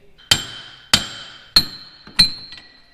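Four sharp metallic hammer blows, about a second apart, strike a car wheel hub during drive shaft removal on a Mitsubishi 3000GT, each ringing briefly with a bright metallic tone.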